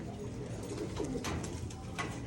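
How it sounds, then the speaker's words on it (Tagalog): Racing pigeons in Taiwan-style cages at a champion loft coo steadily and close by, soft repeated coos over a constant low background hum, with no talking. "Puro naka Taiwan cage mga kalapatids."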